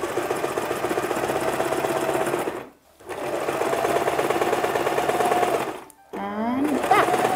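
A sewing machine runs steadily, stitching a seam with a 1-inch allowance on fabric over the free arm while sewing a traditional Iro and Buba. Two brief pauses break the close, continuous mechanical whir, and the third run starts with a rising whine.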